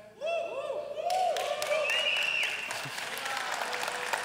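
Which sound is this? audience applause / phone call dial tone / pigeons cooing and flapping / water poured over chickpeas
audience applause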